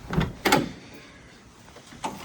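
Door of a 1958 Ford Zephyr under rebuild being opened: a sharp latch click, a second heavier clunk half a second later, then a quiet pause and another soft knock near the end, close by with no talk.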